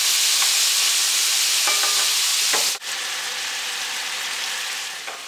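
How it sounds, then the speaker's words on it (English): Beef browning in a pot for a stew gives a loud, steady hiss of frying close by, with a few soft stirring knocks and one brief clunk midway, and no voices. "Okay, we're going to brown this off nice."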